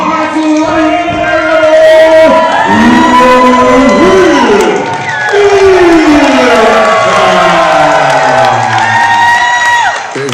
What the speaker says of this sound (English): Big hometown welcome, or a big home crowd welcome for Rip Impact here